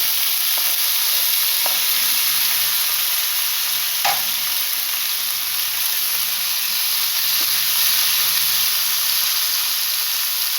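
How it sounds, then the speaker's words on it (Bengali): Chopped tomato stirred into hot oil with asafoetida in a pan, sizzling steadily and closely throughout, with occasional light taps and scrapes of the stirring spoon. "টমেটোটা দিয়ে নাড়বো"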